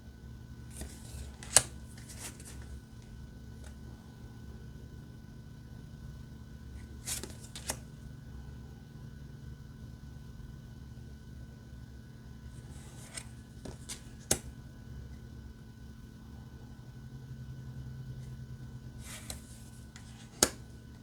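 A Star Maiden tarot deck is shuffled by hand in several separate quick bursts of card riffling and slapping, close and fairly quiet, with a low, still background between them.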